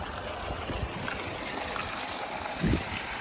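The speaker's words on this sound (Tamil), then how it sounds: "24 மணி நேரம் தண்ணி உங்களுக்கு விழுந்துட்டே இருக்குங்க" Water pours steadily into a farm water tank on a coconut grove, a continuous broadband rush and trickle that stays even throughout, with a brief gurgle near the end.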